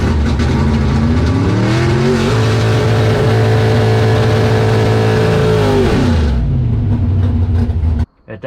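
A 1956 Corvette drag car's engine roars loud and steady during a burnout, its pitch climbing, holding high, then dropping back before cutting off abruptly at the end.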